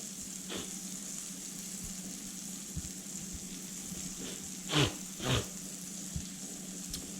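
Whitetail deer heart coated in shake and bake fries faintly in a pan, a low steady sizzle with a few sharp clicks and two brief louder scrapes.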